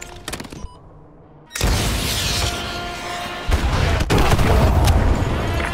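AGM missile strikes from Modern Warfare 2 Remastered's Contingency mission, a sharp burst followed by sustained heavy rumbling blasts and a second surge of loud explosions, close and powerful.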